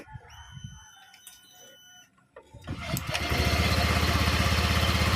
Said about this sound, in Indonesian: Mesin sudah menyala.